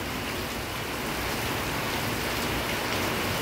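Heavy unseasonal May rain pours steadily over Deglur town, a dense, even hiss of falling water that holds without a break. No voices are heard over the downpour.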